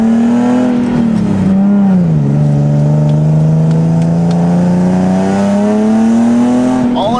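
A peppy comp car engine revs strongly under acceleration, one steady loud droning note that dips briefly, then climbs smoothly and stays close and continuous.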